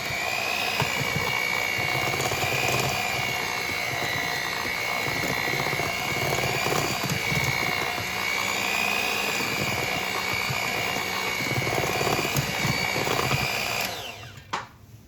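An electric hand mixer whirs steadily through sheet cake batter in a bowl, a loud, continuous motor drone with no talk, cutting off abruptly near the end.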